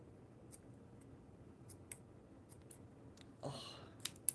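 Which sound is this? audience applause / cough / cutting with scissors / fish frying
cutting with scissors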